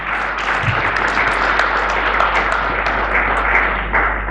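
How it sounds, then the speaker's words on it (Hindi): A gathering at a camp in Rishikesh gives a round of hearty applause for a participant, with many hands clapping in a thick, sustained wash over a low steady hum. "सभी आशीष भाई के लिए जोरदार तालियां हम बजाएंगे।"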